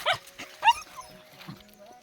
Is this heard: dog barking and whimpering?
yes